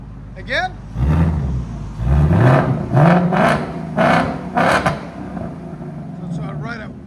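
Close, loud repeated revving from a 2024 Ford Mustang Dark Horse running an X-pipe and resonator delete, four or five sharp throttle blips rising and falling over an idle, with voices talking alongside.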